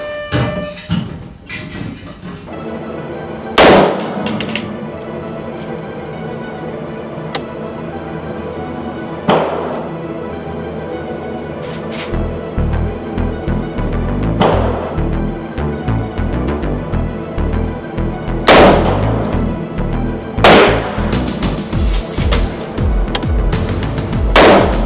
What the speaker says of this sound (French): je démarre mon réglage de tir au laser